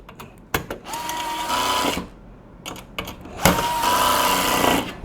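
A power tool tightens nuts on an aluminium-profile CNC gantry with SRB16 rails, producing two sustained whirring runs of about a second and a half each, preceded by short clicks, close and moderately loud.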